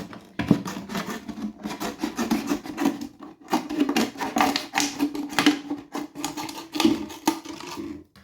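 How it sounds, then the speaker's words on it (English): A plastic soda bottle being cut around its body, with steady scraping and rasping strokes up close and short pauses between runs of cutting. "So we're going to cut this bottle."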